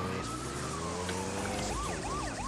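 A police siren in the video game GTA 2 sweeps up and down in repeated rising-and-falling cycles over a steady engine-like drone, fairly loud and close.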